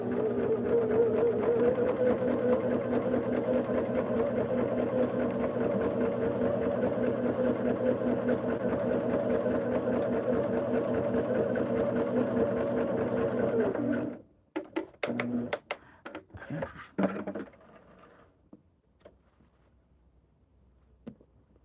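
A sewing machine stitches fabric for a Wedding Star quilt block, humming steadily for about fourteen seconds, then stops, leaving scattered clicks and handling noises nearby.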